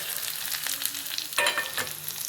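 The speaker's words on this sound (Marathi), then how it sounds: "आणि हे चांगलं मिश्रण एकत्र परतून घेऊया आपण तेलामध्ये" Onion, tomato and green chilli sizzle and crackle in hot oil for a simple Marathi-style tempering, loud and close, with stirring sounds and no talking.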